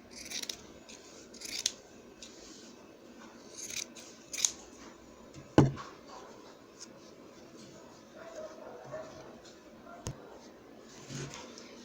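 Scissors snip through layered fabric for a children's double-sided cloth hat, a few crisp, close cuts spaced apart over a quiet room.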